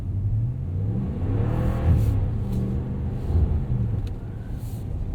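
A 2018 Ram 1500 Sport Crew Cab 4x4 pickup drives on winter roads, its engine a steady low rumble with mild revving swells, heard from inside the cab throughout.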